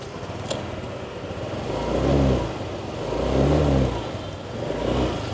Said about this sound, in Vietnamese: Bây giờ thì mình sẽ nổ máy cho anh em